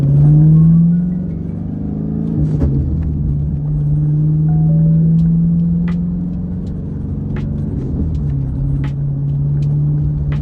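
A manual transmission car pulling away from a stop sign, a loud close engine drone that dips and rises as the gears take up, with faint clicks over the steady rumble.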